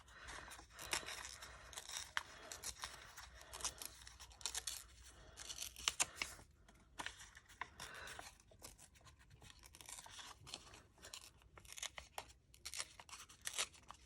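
Scissors snip and slice through a paper envelope while a postcard pocket is cut out, giving quick, close, irregular cuts with paper rustling and tearing between them.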